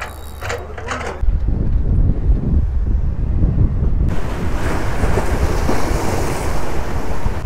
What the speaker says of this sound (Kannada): ಈಗ ನೀರು ಬರ್ತಾ ಇದೆ ಸಮುದ್ರದಲ್ಲಿ.